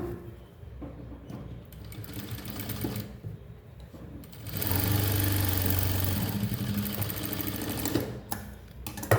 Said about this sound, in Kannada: ಇದಕ್ಕೊಂದು ಡಬಲ್ ಸ್ಟಿಚ್ ಹಾಕೋಣ